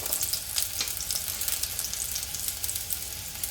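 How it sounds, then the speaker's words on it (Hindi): Tomatoes frying in a hot pan for veg kofta gravy, a soft steady sizzle with faint crackles and light stirring taps, close but low in level. "अब इसमें मैं टमाटर डालूँगी।"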